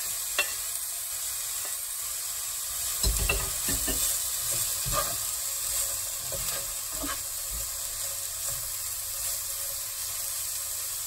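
Carrots and leeks fry in a pan for veggie rolls, a soft continuous sizzle with occasional stirring scrapes and clatters, close and fairly quiet.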